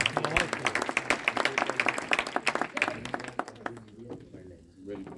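An audience at a poetry book launch claps in a lively burst of applause for a singer that fades out toward the end.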